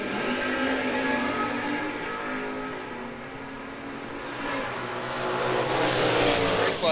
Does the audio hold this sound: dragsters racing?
yes